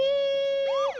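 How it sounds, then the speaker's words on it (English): A police siren holds a steady tone, then sweeps into a rising and falling wail; loud and close. "So we got Police Sirens."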